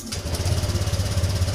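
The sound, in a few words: Honda Vario 125 motorcycle engine starting after injector cleaning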